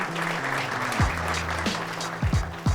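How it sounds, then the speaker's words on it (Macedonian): Sustained audience applause at a rap battle, dense and steady throughout, with a few brief louder sounds and a low hum beneath. "Аплауз за Зора!"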